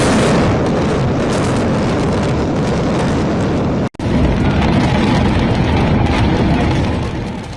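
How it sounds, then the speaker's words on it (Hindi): Controlled demolition blast bringing down the Supertech Twin Towers: a sustained, loud, roaring rumble of explosions and collapse, broken by a brief dropout, then continuing as a dense, powerful roar that fades slightly at the end. "और ये देखिए ब्लास्ट!"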